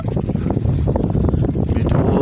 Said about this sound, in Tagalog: may kalakasan din yung alon tsaka hangin